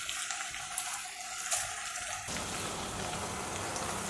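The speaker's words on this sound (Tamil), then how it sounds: "அதனால் பாஸ்மதி அரிசியை இதில் ஆட் பண்ணிடலாம்" Basmati rice poured into a cooking pot holding garlic and oil gives a steady pattering, rain-like rush that swells sharply about halfway through and then holds loud and close, with no voices.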